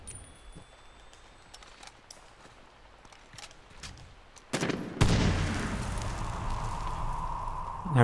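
A grenade blast in Medal of Honor Warfighter multiplayer on the Basilan map erupts into a loud, sustained roar after a stretch of quieter distant gunfire and ambient battle noise.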